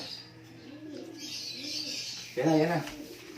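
Pigeons coo in a low, repeated rhythm at moderate distance at a Balatan, Camarines Sur race lap, with a louder, closer burst of cooing near the end and faint chirps overhead.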